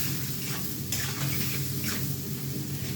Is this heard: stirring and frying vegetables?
yes